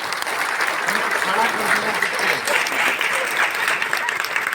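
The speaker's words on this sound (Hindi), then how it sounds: "एक जोरदार ताली दोस्त आपके लिए होना चाहिए" A seminar audience breaks into loud, dense applause, a sustained wash of many hands clapping close and steady throughout.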